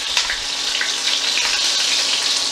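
Short ribs sizzle in a hot pan as they brown before a red wine braise, producing a loud, steady, close hiss of frying that runs unbroken with no speech.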